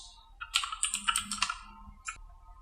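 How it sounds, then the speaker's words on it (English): Computer keyboard keys pressed for a Control G shortcut: a quiet, close burst of rapid clicks followed by one more isolated tap. "hit the Control G on my keyboard to put them in groups"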